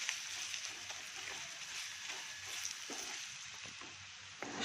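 Bisibelebath spice powder frying in hot oil gives a steady, soft sizzle with faint crackles and small stirring clicks, continuous and fairly quiet, with no voices.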